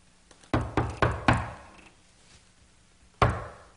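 Knocks on a door in a comedic Versailles sketch on a late-night show: a quick patterned run of four firm knocks, then a pause and one final knock, close and loud with no talking.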